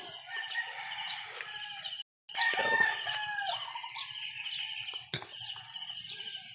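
Chickens cluck and a rooster crows outdoors, over a constant high chirping of insects in the background.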